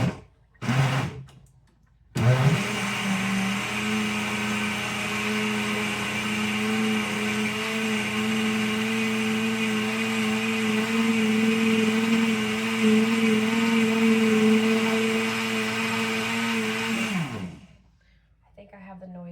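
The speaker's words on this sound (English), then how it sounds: "I think I have the noisiest blender ever" A loud blender whirs steadily for about fifteen seconds in a home kitchen, its motor pitch holding a sustained drone before cutting off, with a short burst of noise just before it starts.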